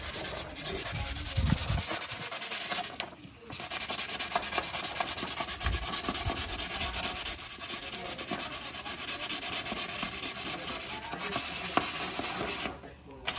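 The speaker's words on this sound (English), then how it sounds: "So we're just sanding it. We're using 600" Steady scratchy rubbing of 600-grit sandpaper across an AC compressor clutch part from a 2010 Honda Civic, continuous and close, with brief pauses in the strokes and no talking.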